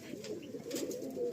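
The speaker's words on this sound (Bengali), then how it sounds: "এটা হলো নর পায়রা," A male pigeon coos from close by, a low, throaty burbling that runs steadily through the short moment with no talking.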